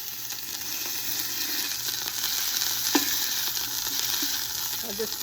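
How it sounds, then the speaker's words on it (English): Three pork spare ribs brown in a hot pan for an Italian Sunday sauce, giving a steady, close, crackling sizzle that continues throughout, with a few small pops and scrapes. "Now I'm going to put in my 3 spare ribs. And I'm going to brown them the same way."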